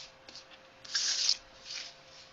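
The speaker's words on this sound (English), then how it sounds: "We're going to pick these cards up" Tarot cards picked up from a table and shuffled, a short faint burst of papery rubbing and riffling with softer scraping before and after, quiet and close.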